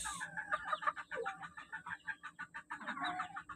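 Elgama Grey gamecock rooster clucking in a rapid, close run of short repeated clucks with a brief rising call near the end, no talking over it.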